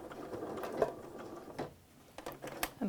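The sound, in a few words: sewing machine backstitching a potholder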